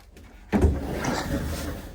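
A drawer under the dinette of a 2026 Cherokee Grey Wolf 23MK travel trailer slides with a rumbling thud, close and fairly loud, then a brief rolling rattle as it settles, with no talking.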